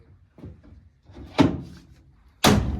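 A Mahindra Roxor's lightweight Fortress half door is lifted and handled, giving a soft knock followed by two sharper thunks, close and fairly quiet, with no talking.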